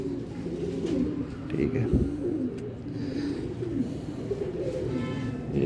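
A golden pigeon of a Tasveer breed coos in low repeated throaty phrases nearby, with someone talking over the birds.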